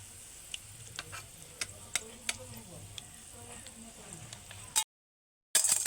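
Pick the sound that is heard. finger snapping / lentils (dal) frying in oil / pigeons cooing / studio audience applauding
lentils (dal) frying in oil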